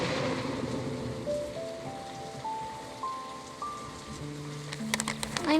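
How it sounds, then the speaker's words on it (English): Rainstorm in the video game Paper Trail patters steadily and softly, while gentle sustained musical tones rise step by step over it. "Now I guess we're stuck here until the rain clears."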